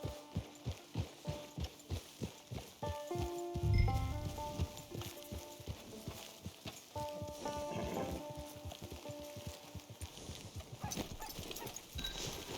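Horse hooves clip-clop in a steady walking rhythm in the Red Dead Online video game, close and clear at first, then continuing under music and game sounds.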